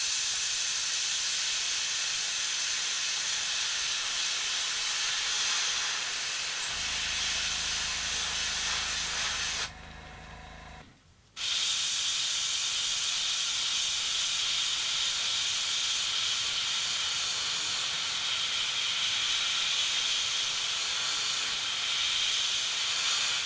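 Steady airbrush hiss spraying paint onto a folding-winged topwater fishing lure, continuous and close, with a low hum joining midway and a brief gap before the spray resumes.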